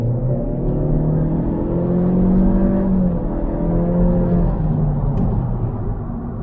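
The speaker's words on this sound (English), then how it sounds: "Acceleration test, go!" A 2022 Honda Civic Touring accelerates hard from inside the cabin, with a steady loud engine drone whose rising and falling tones mark gear changes over road rumble.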